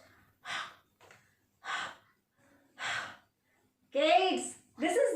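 A voice imitates huffing and puffing breath: four short, breathy exhalations spaced about a second apart, the last two rougher and more voiced, close up with no other sound.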